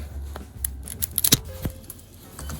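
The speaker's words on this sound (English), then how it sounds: "I'm going to snip the shafts off here" Several sharp scissor snips cutting through drum beater shafts, quick separate clicks clustered close to the mic, fairly quiet with no talking.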